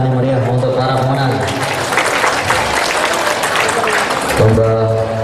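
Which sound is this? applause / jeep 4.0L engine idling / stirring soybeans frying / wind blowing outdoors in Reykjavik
applause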